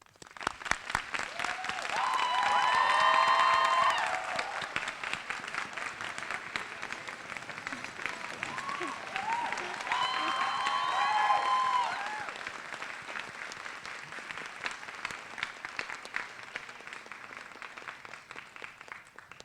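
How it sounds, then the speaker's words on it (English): A graduation audience at Utica Academy for International Studies applauds the teachers with sustained clapping that swells, eases and swells again, dense and even, with a few voices rising within it. "I ask that you offer your teachers one last round of applause."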